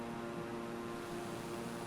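A Beechcraft airplane engine hums in a flight simulator, a steady propeller drone with a strong constant tone, loud and even without any speech.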